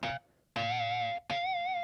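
Three squealing electric guitar notes with a crunchy overdriven tone, each a high pinched harmonic held with slight vibrato, separated by brief gaps.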